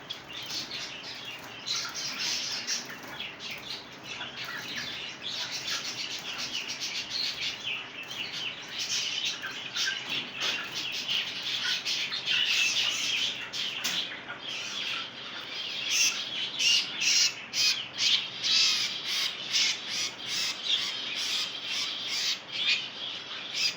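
A Java sparrow squawks and chirps in rapid, harsh bursts, close and continuous over about twenty seconds, growing busier toward the end, with no talking.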